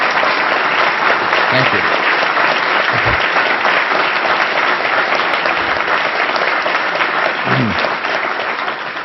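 A large audience at Harvard claps warmly to welcome a speaker, a loud sustained wash of applause with a brief spoken thanks near the end.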